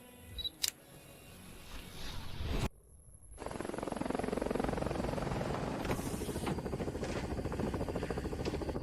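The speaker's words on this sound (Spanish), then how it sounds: "Señor Lee, el helicóptero solo puede llegar hasta Gorakshep." A helicopter flying toward the Everest base camp area near Gorakshep, its rotor thudding in a steady loud drone after a short burst of clicks and a brief gap.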